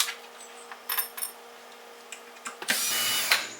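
A power screwdriver removes screws from a Boss Katana Artist MK1 guitar amplifier in short, close whirring bursts, finishing with one longer run of the driver.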